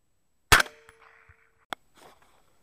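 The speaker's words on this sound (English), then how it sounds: "So I ended up having to take a rear end shot here." A single loud rifle shot from a short-barreled rifle fired at a hog about 100 yards off during a night hunt, a sharp crack with a short ringing tail, followed by a fainter distant impact-like snap.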